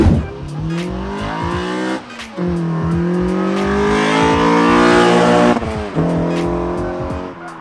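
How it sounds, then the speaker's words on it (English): A ninth-generation Honda Civic Si engine revs hard at wide open throttle, pitch climbing steadily through the gears with brief dips at each shift, loud and close. "it sounds phenomenal when I get on it wide open throttle"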